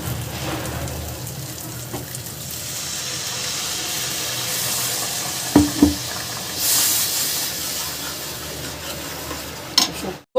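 Water goes into a pan of fried spice paste for a prawn curry, giving a loud hiss and sizzle with stirring, a few sharp clinks of a utensil and a burst of steam.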